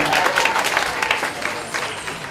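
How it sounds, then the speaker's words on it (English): A nerd night crowd applauds a speaker arriving for a talk on America, with dense, steady clapping close by that eases off slightly toward the end. "let's have a big round of applause for Pavan Nagavelli"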